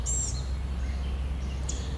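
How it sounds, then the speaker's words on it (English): A red-winged blackbird gives a brief high call near the start and another near the end, faint over a steady low outdoor rumble. "And there's our red-winged blackbird."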